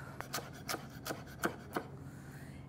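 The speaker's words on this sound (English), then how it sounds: "It starts with a little bit of green onion. Just needs to be chopped up." A knife chops green onion on a cutting board in a quiet run of about eight light, crisp taps at an uneven pace.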